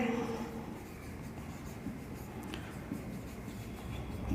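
Marker or chalk strokes on a classroom board during a Class 10 probability lesson, a steady scratchy rubbing that runs continuously and fairly close, with a low room murmur beneath.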